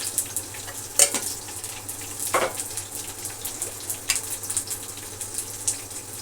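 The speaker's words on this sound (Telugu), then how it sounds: "ఉల్లిపాయ వేస్తున్నాను. కొంచెం జీలకర్ర వేస్తున్నాను." Onion and cumin seeds sizzle in hot oil in a home kitchen pan, a steady close frying crackle with a few sharper pops and stirring scrapes throughout.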